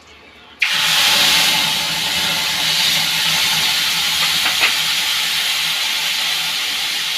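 Whole cumin and whole garam masala with prepared masala paste hitting hot oil, erupting into a loud, steady hissing sizzle that holds for several seconds without talk.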